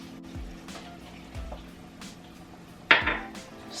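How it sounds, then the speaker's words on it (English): A spoon stirs brown sugar into a pot of spiced cranberry chutney, giving a few sparse metallic clinks and one sharper scrape against the pot in a quiet kitchen. "Stir the brown sugar in there a little bit."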